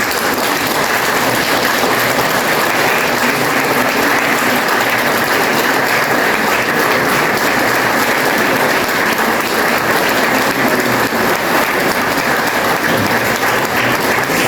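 Sustained applause from a large audience in an indoor hall, honoring Malian people and Syrian refugees at a World Refugee Day event, a dense, steady roar of many hands clapping that lasts the whole stretch without pause.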